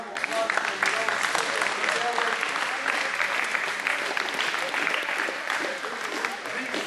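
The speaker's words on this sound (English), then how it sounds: "let's give a big round of applause to the adults" A school after-prom hypnotist show audience breaks into loud, sustained applause, steady clapping filling the room for several seconds.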